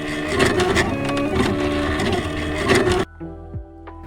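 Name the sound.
cutting machine cutting laminated stickers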